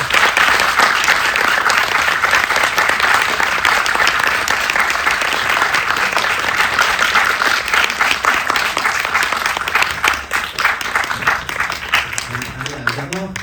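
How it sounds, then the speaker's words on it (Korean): A packed cinema audience at a Korean film release Q&A breaks into loud, sustained applause as the director and actors walk in, dense clapping filling the room before thinning out near the end. "입장하실 때 큰박수로 환영해 주시면 감사하겠습니다."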